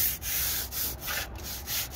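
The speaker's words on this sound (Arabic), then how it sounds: "قبل التركيب لازم نصنفر الجدار عشان يشتغل فيه الريش" A wall being sanded before stone veneer is installed, heard as steady, close, rhythmic abrasive rubbing strokes with no talk.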